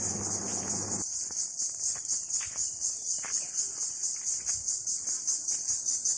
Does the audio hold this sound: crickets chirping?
yes